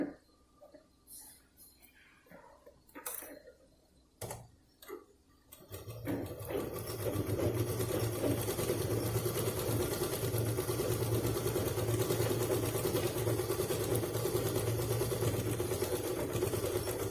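After a few scattered handling knocks and clicks, a sewing machine starts stitching lining cloth over a sponge layer for a cloth purse, a close, steady whirring hum that runs unbroken to the end.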